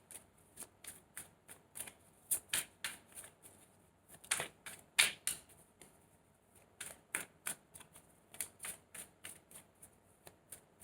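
Cards shuffled for a tarot-style reading, a series of crisp riffling bursts in quick irregular clusters, close and fairly quiet, with no talking.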